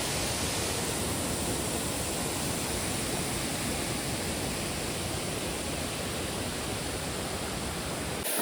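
A monsoon waterfall tumbles down in the hills, a loud, unbroken roar of rushing water heard close up, steady and wideband for the whole stretch before cutting off at the very end.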